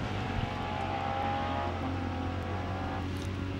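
A Cosworth-engined car at a hillclimb speed event, flat out over a crest toward the finish, its engine a steady loud drone with a sustained tonal whine throughout and no speech.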